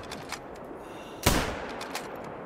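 A single loud, close rifle shot at an animal in the hunting game theHunter: Call of the Wild cracks sharply and fades into a short echoing tail over quiet outdoor ambience.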